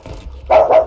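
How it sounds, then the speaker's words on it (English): Dogs barking in a room during a Battlefield 2042 gaming session, two short close barks following faint background noise. "Shut up, dogs."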